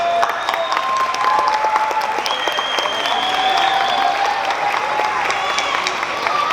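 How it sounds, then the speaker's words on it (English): A graduation-ceremony crowd applauds steadily and loudly, with cheering and whistles rising over the dense clapping throughout. "Give your mom and dad a round of applause"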